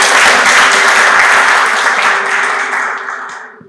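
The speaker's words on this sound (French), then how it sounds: "Monsieur Souleymane Camara, que je vous prie d'accueillir par les applaudissements" An audience at a televised school ceremony in Côte d'Ivoire bursts into loud, dense applause that holds steady, then thins and fades out toward the end.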